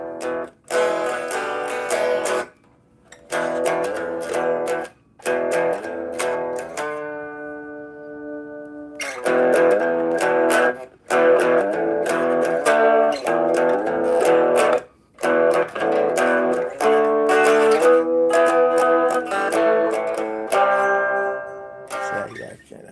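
Relic custom '58 Fender Telecaster electric guitar played loud through distortion, with sustained ringing chords and riffs broken by a few brief pauses, close and alone.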